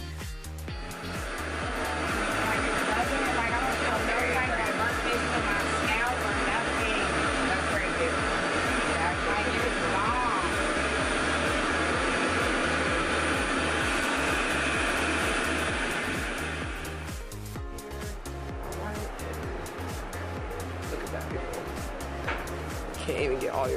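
RevAir reverse blow-dryer running on high speed setting during a hair blowout on type 4 hair, a loud steady whoosh of airflow for about seventeen seconds before the motor tone changes and quiets slightly.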